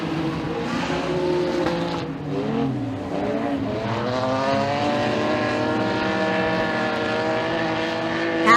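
Mini stock race cars roar through a heat race at Raceway 7, several engines droning and revving together in a loud, continuous wash of overlapping engine tones that rise and shift as the cars circle the track.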